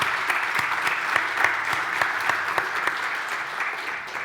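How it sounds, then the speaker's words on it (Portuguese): Applause breaks out at the close of a panel session at a Portuguese-language coaches' congress, a steady audience clapping with distinct louder claps standing out, close and sustained without speech. "agradecer uma salva de palmas aqui para os nossos convidados"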